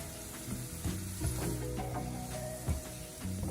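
Lemongrass, galangal and chili sizzle in a hot pan for beef rendang, a constant frying hiss broken by occasional thumps and scrapes of stirring, close and unaccompanied by speech.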